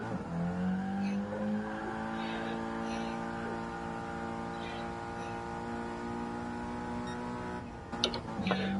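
Race car engine droning in Gran Turismo Sport, a sustained high-pitched whine holding steady through a gear change, then a brief tire scrub near the end, with a voice talking briefly at the start.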